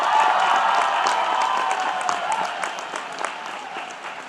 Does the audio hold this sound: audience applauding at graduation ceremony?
yes